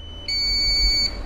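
Low-battery alarm from a DJI Flip drone in flight: a steady, high-pitched electronic beeping tone that starts abruptly and holds for just under a second before cutting off, clear and fairly loud over faint rotor hum.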